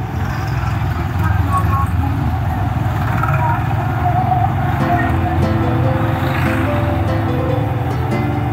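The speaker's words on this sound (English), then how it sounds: "Tractor rally." A tractor rally rolls past on a mountain road, with a steady low rumble of diesel engines and faint music, heard from inside a nearby vehicle while people talk.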